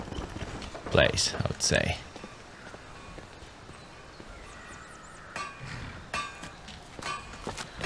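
Horse hooves clip-clop in a video game, a quick cluster of sharp knocking steps up close, then quieter sparse hoofbeats later, with a person talking softly over part of it.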